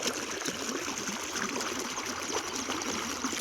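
Irrigation water runs through a farm field in what seems to be an ajwain plot, a steady rushing, gurgling flow heard close and continuous with no voices.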